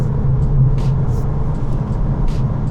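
A Volkswagen Taigo R-Line petrol car pulls away out of a village, a steady low engine and road rumble with tyre noise holding level throughout, close and continuous with no talking.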